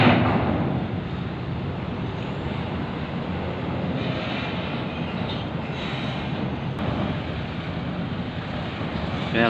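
Ferry Baruna 1 arriving from Bakauheni at pier 1 of Merak harbour, Banten, unloading, heard as a steady, loud low rumble of engines and broadband wind-like noise throughout, with no talk.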